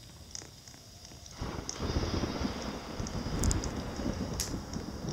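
Wind blows in a Roblox game scene, a steady rushing roar that swells after the first second and stays loud, with a few faint high clicks on top.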